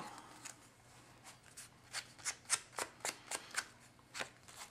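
Sponge dabbing black ink onto the cut edges of a paper tag, a series of soft, quick pats and scuffs in an irregular rhythm, close and quiet.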